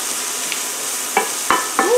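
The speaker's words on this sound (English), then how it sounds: "We're going to saute this down for 3 minutes." Vegetables sautéing in butter in a pan, a steady loud sizzle up close, broken by several sharp scrapes and taps of a spoon stirring against the pan.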